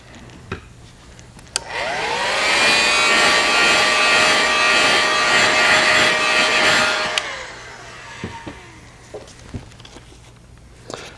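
A heat gun heat-sets paint on a bluegill-pattern fishing lure, switching on with a steady, loud whirring blow that holds for about five seconds before winding down, followed by a few light handling taps.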